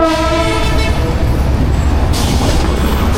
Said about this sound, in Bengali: আমরা ট্রেনটাকে দেখতে পাচ্ছি না, কারণ সামনে আরেকটা ট্রেন চলে আসছে।